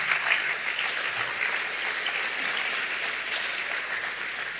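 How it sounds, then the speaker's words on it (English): Audience applause fills a hall at the TransVision Madrid 2025 international longevity summit, a steady, dense clapping that holds at an even level throughout with no voices over it. "Applause to him."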